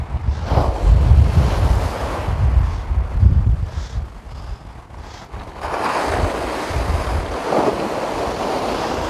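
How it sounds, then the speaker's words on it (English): Sea waves wash onto the shore in rolling surges while wind buffets the microphone with heavy low rumbles, loud and close, on a beach during shore fishing. "Lovely sea."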